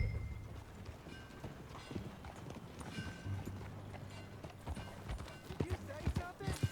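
A horse gallops in Red Dead Redemption 2, its hooves clopping in a rapid, rhythmic beat beneath ongoing character dialogue and ambient game sound.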